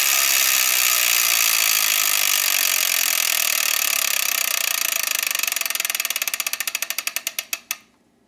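A prize wheel spins in a Wheel of Fortune video game, its rapid clicking ticks steadily slowing, spacing out and stopping near the end.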